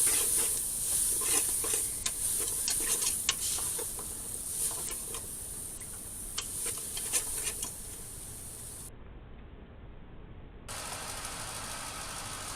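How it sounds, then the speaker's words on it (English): Vegetables tossed into a hot gumbo roux, a bright hissing sizzle with scattered crackles and scraping stirs, loudest at first and easing off toward the end. "We'll toss in the veggies just to stop the roux cooking."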